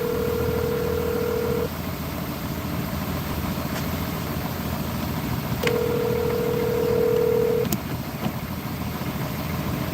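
A telephone call rings out on the line, with two long electronic ringback tones separated by a pause, heard over a low, steady engine-like idle in the background and no talking.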